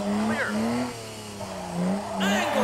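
A drift car held at a steep angle during a round of a German drift series, its engine wailing in rising and falling tones while tires squeal. Loud and close, with a voice talking over it.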